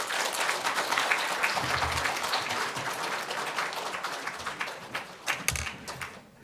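Church congregation applauds during a Sunday worship service in welcome of a former senior pastor, a sustained crowd of clapping that thins toward the end with a few scattered claps.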